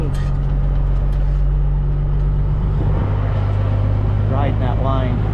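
A cabover truck backs off the road toward a roadside ditch, its diesel engine a loud, close, steady low drone that shifts pitch around midway, with a voice briefly heard over it near the end.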